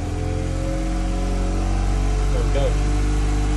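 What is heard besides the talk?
boat engine starting and revving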